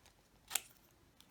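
A pair of scissors snips through a paper instruction label in one crisp, brief cut, close and quiet against a hushed crafting room.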